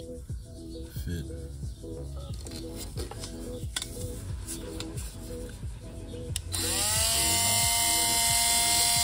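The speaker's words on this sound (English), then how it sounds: "now I gotta cut this off. Use this Dremel." A Dremel rotary tool cuts a part on a Mazda Miata, first as a busy rhythmic clatter of repeated strokes, then settling into a loud, steady high whine over the last few seconds.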